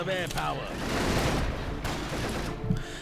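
Dense gunfire rattles continuously in a battle at Guadalcanal in the 2004 strategy game Axis & Allies, a busy crackling fusillade with a voice talking over the start.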